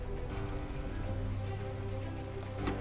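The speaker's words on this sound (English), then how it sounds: "we'll hear water" Water running through newly installed water lines during a tankless water heater installation, a steady low rushing and trickling flow that continues evenly throughout, with a faint click near the end.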